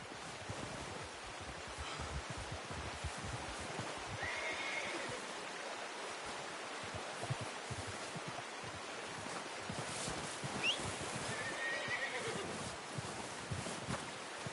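A horse in Red Dead Redemption 2 whinnies a couple of times over steady wind and surf-like ambience, with faint hoof clops in the background.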